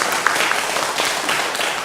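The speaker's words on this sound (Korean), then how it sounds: "우리 장로님들을 통해서 이 사랑방 모임이 더욱더 풍성하게 되라고 우리 한번 격려의 박수를 한번 또 쳐드리는 것도 어떨까" Church congregation applauding its elders during an afternoon worship service, steady dense clapping filling the whole moment at moderate loudness with no voices over it.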